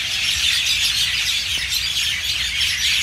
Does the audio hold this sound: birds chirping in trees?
yes